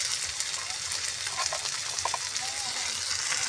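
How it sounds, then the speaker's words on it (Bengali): Chopped onion, tomato, coriander and green chili frying together in hot oil while making a burnt brinjal mash, with a steady, close sizzle and occasional crackles and pops. "সব একসঙ্গে মিশিয়ে ভালো করে ভেজে নিই"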